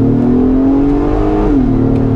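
A 2022 Acura MDX A-Spec in sport mode revs up and down, its engine note rising then easing back, loud and close from inside the cabin, with no talking.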